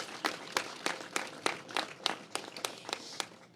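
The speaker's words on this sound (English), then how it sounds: "Let's give a round of applause for that." Audience applause at a political event commemorating Women's Equality Day, sharp irregular claps rising in bursts across the room, moderately loud with no talking.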